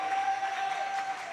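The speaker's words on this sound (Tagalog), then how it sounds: "pamalakpak tayo ng malakas na palakpak" Congregation applause during a church preaching service, a dense steady wash of clapping held at an even level throughout, with a faint sustained tone running beneath it.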